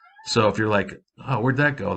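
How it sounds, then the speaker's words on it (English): A house cat meows in the background, a few short voiced cries partly buried under close, steady talk that runs through most of the stretch. "noises and meows in the background"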